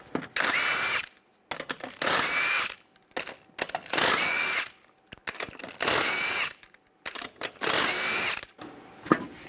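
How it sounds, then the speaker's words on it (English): An impact-style power tool with a 21mm socket spins off the wheel lug nuts on a Toyota Prius, sounding as five loud, whirring bursts of about a second each, separated by brief pauses and small clicks, close up. "Take the lug nuts off."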